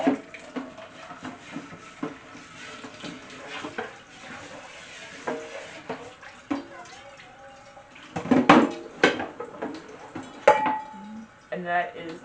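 Dishes, pots and cutlery clink and scrape while a tap runs during household cleaning, with scattered knocks and rattles and a louder clatter near the end, all close by and without talk.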